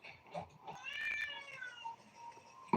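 A house cat meows in one drawn-out, rising and falling call, fairly close and clear, followed by a short sharper sound at the end.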